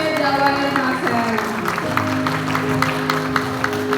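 An audience at an indoor gathering gives warm applause for a man named Pak Amir. Steady clapping runs the whole time beneath sustained musical tones, with a little voice in the mix.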